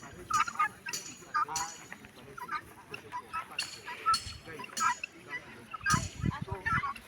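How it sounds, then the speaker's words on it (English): White guinea fowl grazing outdoors and calling, a series of harsh, rasping honks and squawks from several birds at close to mid range, with some scattered softer bird sounds between calls. "This white guinea fowl."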